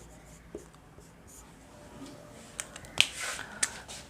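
A pen scratches across paper while figures are written in an accounting ledger, soft intermittent strokes and a few sharper taps, close and quiet, with no talking.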